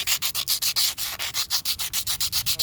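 Emery paper rubbed back and forth on a sailboat boom part, a close, raspy scratching in fast even strokes, about six per second, heard alone.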